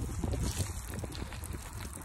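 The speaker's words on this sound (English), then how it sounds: "That was a huge wind gust." A strong wind gust roars through during an ice storm at Castle Lake in Northern California, a loud rushing buffet on the microphone with broad, gusty noise throughout.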